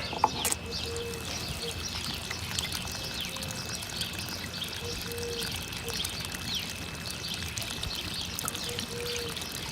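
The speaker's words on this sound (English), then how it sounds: "I'm going to drain this water off." Water drains from a tub of washed clay as a steady pouring, trickling rush, with faint bird chirps in the background.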